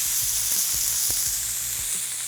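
Salmon fillet sizzling skin side down in a hot skillet with vegetable oil, a loud steady frying hiss with soft crackles and pops throughout, close up with no talking.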